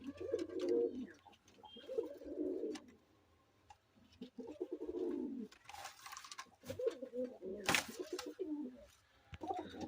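Black capuchine pigeons in a pigeon farm give repeated low, throaty coos in uneven bursts, close by and moderately faint, with a few sharp rustles and flaps in between.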